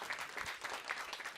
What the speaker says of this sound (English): Please give her applause.